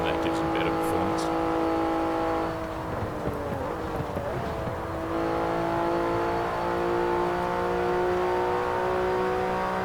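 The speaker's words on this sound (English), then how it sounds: "Bear in mind I'm driving a stock standard Porsche 911 Carrera S" A stock Porsche 911 Carrera S in the Forza racing game drives with a steady, continuous engine drone that briefly dips and shifts in pitch midway before settling back to a sustained hum.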